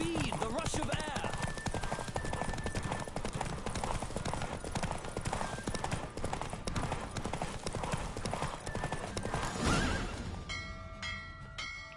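Galloping hooves of a horse in The Witcher 3 pound in a fast, even rhythm for most of the stretch, then slow and give way to a short tonal game chime near the end.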